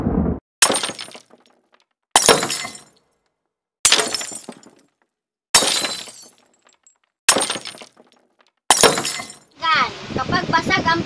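Plates smash six times in a row, each a sharp, loud shattering crash at a steady pace with silence between. A voice starts speaking at the very end.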